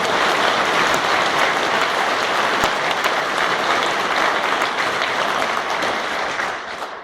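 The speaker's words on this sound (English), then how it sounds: "Round of applause for Tom." A banquet hall crowd at a basketball team banquet gives a sustained, dense round of clapping, loud and even for several seconds before tapering off near the end.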